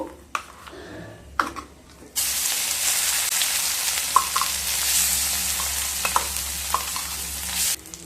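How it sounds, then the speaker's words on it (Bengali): Yardlong bean paste hits hot oil in a pan, bursting into a loud, sustained sizzle after a few soft knocks, with faint clicks and spatters over the steady frying hiss. "তেল থেকে যখন সুন্দর একটা স্মেল বেরোতে শুরু করবে সেই সময় পেস্ট করে রাখা বরবটি দিয়ে দেবো"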